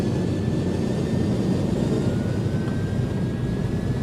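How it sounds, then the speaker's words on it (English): The simulated engines of an iniBuilds A300-600 airliner in X-Plane 12 spool up to a steady, dense roar with a low rumble, constant throughout and with no voices. "Listen to those engine sounds."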